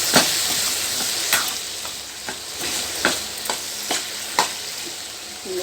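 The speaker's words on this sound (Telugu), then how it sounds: "దొండకాయ ఫ్రై." Ivy gourd (dondakaya) frying in a pan, a soft continuous sizzle broken by repeated sharp scrapes and taps of a spatula stirring at irregular intervals.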